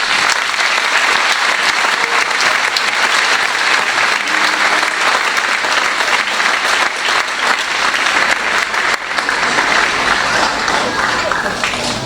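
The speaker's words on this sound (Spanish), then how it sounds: "Dale ese aplauso al Señor." A church congregation applauds loudly and steadily during a Sunday anniversary celebration service, dense clapping filling the room for about twelve seconds with no break.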